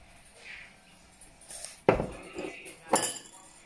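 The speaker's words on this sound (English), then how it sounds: "You crack one of the eggs." An egg cracked against a bowl for cassava cake batter gives two sharp, close knocks about a second apart over a quiet kitchen background.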